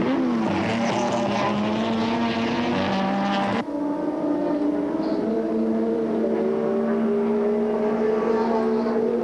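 Touring car engines racing at Oran Park in the 1984 Australian Touring Car Championship, a loud sustained drone with shifting pitch as one car gives way to another midway, steady and close with no speech over it.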